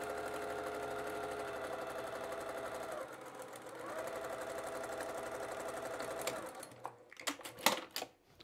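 A sewing machine stitches fabric for a composition book cover in a steady, close mechanical whir for several seconds, briefly easing off and resuming before stopping, followed by a few scattered clicks and handling knocks.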